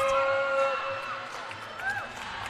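Crowd noise at a gymnastics meet while scores are awaited: a steady, lively murmur of spectators with whoops and scattered shouts, moderately loud throughout.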